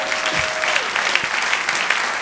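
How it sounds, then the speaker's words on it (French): A church congregation claps together in steady, moderately loud applause, with a brief tonal whistle or feedback tone near the start and scattered voices faintly mixed in. "vous pouvez donner une bonne main d'acclamation à Dieu."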